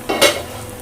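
Malabar spinach cooking in a pan in a hot home kitchen, with a brief scraping stir over a soft sizzle lasting under a second.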